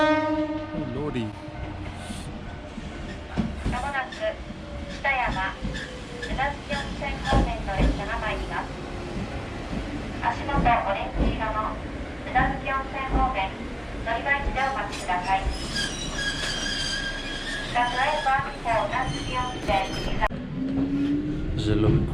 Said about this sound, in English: This is a little bit quaint on this little train. There's about 2 carriages.